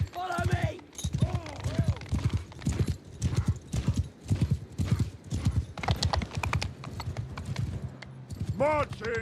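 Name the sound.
horse hooves clip-clopping in Warhammer video game mod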